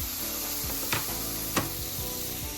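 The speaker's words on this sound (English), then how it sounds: "the turkey is still sizzling away" Turkey sizzling steadily in a hot pan, a constant crackling hiss with a couple of sharp pops, no talking.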